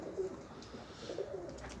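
Baska pigeons, a colourful fancy breed, coo softly in a loft, their low burbling calls faint and repeated in a few short phrases against quiet background noise.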